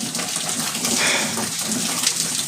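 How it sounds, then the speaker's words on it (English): Water pouring steadily through a house ceiling from a leak, a dense, continuous gushing splash heard close and alone. "it's just pouring through the ceiling"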